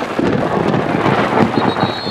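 Steady rumbling thunder roars through heavy rain at an outdoor football match, a continuous loud wash of rain noise with low rolling booms underneath and a faint high tone near the end.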